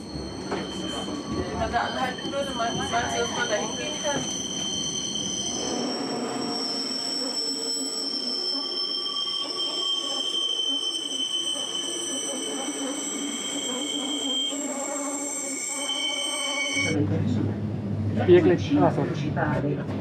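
A Bernina Express train on the Bernina Railway in the Swiss Alps rolls past with high, sustained wheel squeals and metallic screeching over a low rumble, while people talk nearby.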